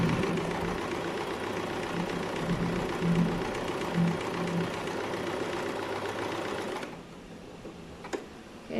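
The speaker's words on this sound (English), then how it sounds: "you just start sewing until the end" A sewing machine stitches a gathering line on fabric with a steady, fast, close mechanical whir and patter that runs continuously for about seven seconds, then stops, leaving quieter room sound and a small click.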